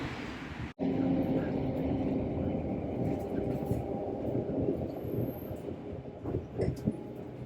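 A city tram rolls along with a continuous low rumble and wheel-on-rail noise, joined by a brief high electronic tone and a few clunks near the end.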